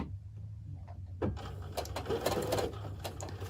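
A sewing machine stitches in short bursts, a brief backstitch followed by a steady rattling run of stitches, close and fairly quiet with no talking.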